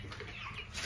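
Young creole-line chicks, about a month old, in a small home-raised flock, giving soft close clucks and peeps over a short moment.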